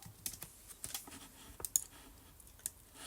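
Quiet, irregular tapping of computer keys as text is typed in Cricut Design Space, with short bursts of clicks and brief pauses between them.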